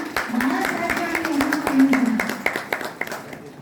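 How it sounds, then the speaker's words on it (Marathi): Loud applause from an audience at a Marathi community award ceremony in Nashik, with dense clapping running throughout over a hum of crowd noise. "एकदा जोरदार टाळ्या"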